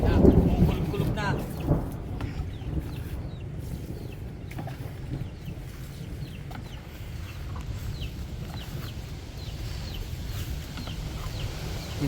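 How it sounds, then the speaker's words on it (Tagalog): Low thunder rumbles through a rural field during a storm, loudest at the start and then fading into a long, soft roll, with wind noise, a distant rooster and faint birds around it. "Ayan na, kumukulog-kulog na."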